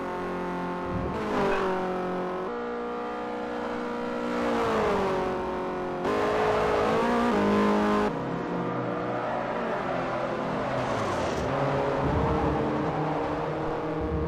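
Mazda race cars in the Forza Motorsport 4 video game scream through the gears, with engines rising and dropping in pitch through repeated shifts and overlapping passes, loud and continuous throughout with no talk.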